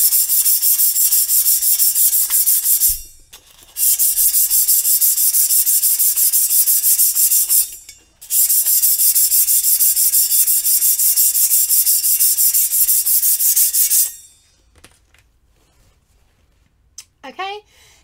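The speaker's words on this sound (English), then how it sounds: "Now that I have sanded the whole way around" A stainless steel tumbler is sanded in three long, loud, steady stretches of harsh rasping with short pauses between, then falls quiet apart from a faint brief rustle at the end.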